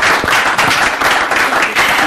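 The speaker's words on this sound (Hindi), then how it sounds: "मैं चाहती हूँ यूफोन गेम शो की इस जो क्लोजिंग सेरेमनी में तालियां जोरदार हो जाएं" Loud applause fills a game show closing ceremony, with a near, vigorous crowd clapping in pulsing waves that swell and dip several times.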